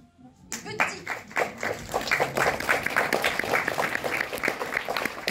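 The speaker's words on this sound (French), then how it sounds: "son discours a été interrompu par les applaudissements" Applause breaks out from a film premiere audience, many hands clapping in a dense, sustained patter that swells and carries on loudly throughout.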